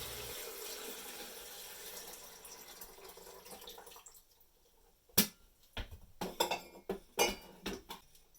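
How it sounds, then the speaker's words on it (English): Water runs steadily from a tap for several seconds, then stops, followed by a series of sharp clinks and knocks like dishes or a kettle being handled. "Next step is getting some water."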